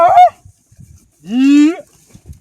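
Cows from a herd of about 55, kept by a single herdsman and heading to water, give two loud, close moos: a short call at the start, then a longer, rising one after a pause, with only faint background rustle and no talking.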